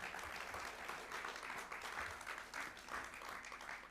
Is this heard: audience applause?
yes